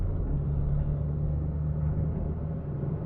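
A 1995 Peugeot 205 Mardi Gras engine pulls steadily after a downshift from fifth to fourth gear, a low continuous rumble with a steady drone, heard from inside the car with no talk.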